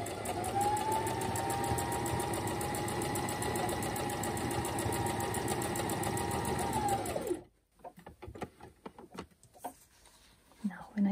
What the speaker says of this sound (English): I put the needle in the middle position on my sewing machine.